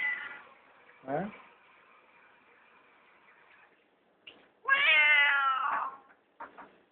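A house cat perched on top of a fridge gives a drawn-out, wavering meow, then a louder strained, yowling cry, close by, with a person briefly speaking.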